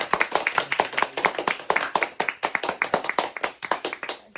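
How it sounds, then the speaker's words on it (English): Audience at a briefing event clapping after the talk, sharp individual hand claps in quick, slightly uneven succession, close and distinct as from a small group rather than a large crowd. "let's give a round of applause"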